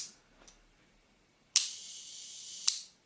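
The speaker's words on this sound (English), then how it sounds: "So if I fire the shutter like the camera will do" A Mamiya-Sekor C 127mm f/3.8 lens shutter for a Mamiya RB being fired by hand: a faint click, then a sharp mechanical snap followed by a short hiss-like whir and a second crisp click closing it.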